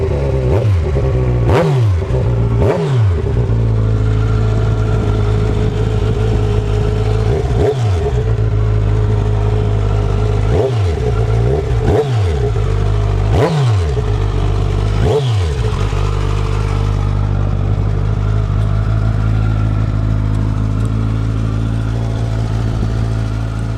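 Kawasaki Z1000SX sport-touring motorcycle with a GR Moto aftermarket exhaust, revved repeatedly in sharp, loud bursts over a steady deep idle, with about eight throttle blips spread unevenly across the stretch before settling back to idle.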